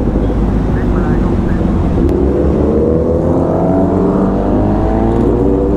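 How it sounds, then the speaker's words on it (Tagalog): A loud, steady engine drone from a Z9 RS big bike rumbles throughout, with rising harmonic tones as the motorcycle revs up under continuous road and wind noise. "Naririnig ko yung motor."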